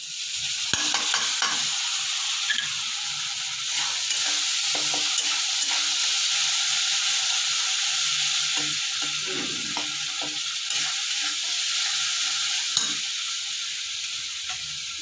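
Ginger, chili and tomato paste frying in a pan, with a steady loud sizzle throughout and intermittent scraping and knocks from stirring.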